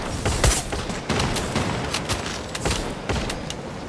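Gunfire in the video game Free Fire, a rapid burst of loud shots in quick succession with uneven bangs, close and dense over the whole stretch.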